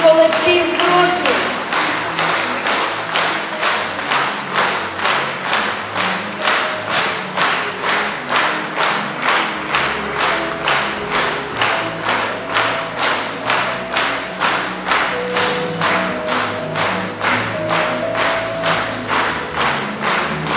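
A concert audience gives a steady, sustained round of applause for a student brass band in Krolevets, dense rhythmic clapping filling the room for the full stretch without a break.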